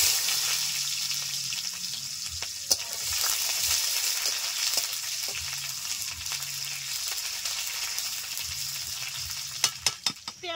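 Onions and black cumin seeds sizzling in very hot mustard oil in a kadai make a loud, continuous crackling hiss, broken by occasional stirring clinks and scrapes near the end, with no talk.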